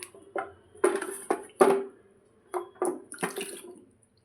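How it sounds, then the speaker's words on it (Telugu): Dry ginger being rinsed in water by hand: a series of short, close splashy swishes and sloshes in irregular bursts, separated by brief quiet gaps, with no talking. "ఇంకొంచెం వాటర్ వేసి ఒకసారి కడిగేయాలి"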